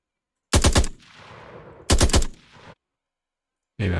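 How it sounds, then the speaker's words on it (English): Gunfire from a third person shooter video game: two loud, close bursts of rapid automatic fire, each trailing into a fading echo, then a third burst starting abruptly at the end, with no talking. "There is shooting, it's true."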